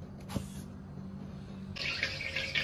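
Tap water starts gushing in a kitchen sink to rinse cut eggplant strips, a steady close splashing stream after a short quiet lead-in with a small knock.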